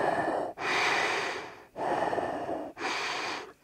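A person imitates Darth Vader's breathing with three slow, loud, rasping breaths that alternate in and out close to the listener, each cut off by a brief pause.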